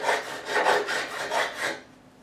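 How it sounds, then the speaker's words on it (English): Metal file rasping across a guitar fret on an Epiphone Wildkat Royale during a fret dressing, five or six close, steady back-and-forth strokes that stop near the end. "I'll go with this file and I'll just smarten it up"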